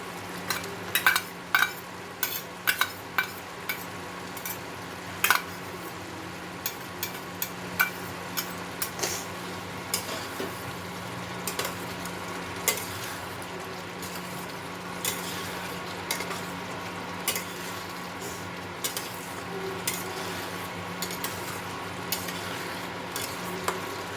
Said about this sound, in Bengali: ভেজে রাখা পেঁয়াজটা দিয়ে দেবো